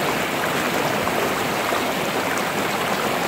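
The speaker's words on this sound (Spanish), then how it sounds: "así está la crecientilla de lo que es el agua que ha caído" A stream swollen with rainwater rushes along in a steady, dense, hissing roar that stays close and even from start to finish, with no voices over it.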